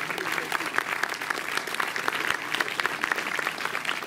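Warm audience applause at the opening of the Montreuil film festival, a dense continuous patter of many hands clapping throughout, with no speech on top.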